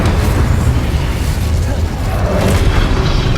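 In Hogwarts Legacy, a Confringo explosion spell gives a loud, sustained roaring blast that stays dense and heavy throughout, with no pause or break.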